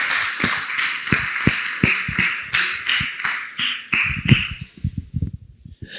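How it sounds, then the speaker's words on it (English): Audience at a medical expo panel discussion applauding, a loud run of sharp individual claps with a steady rhythm that gradually tapers off and stops near the end. "With a round of applause, Mr. Francis."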